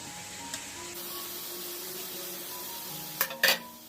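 Carrot and capsicum stirred into tomato masala frying in a pan: a soft continuous sizzle with a few faint stirs and a couple of sharp utensil scrapes and clinks near the end, close and quiet.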